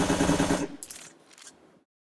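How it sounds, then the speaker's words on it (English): A rapid burst of assault rifle fire from an Opsive third-person game setup, loud and close, ending abruptly and followed by a few faint clinks as the echo fades. "So here's the assault rifle."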